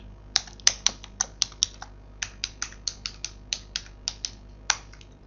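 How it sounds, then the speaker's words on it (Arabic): Password typed on a computer keyboard: a close, crisp run of about twenty separate key clicks at an irregular typing rhythm, with a short pause midway and no talking. "اكتب كلمة السر ونضغط انتر"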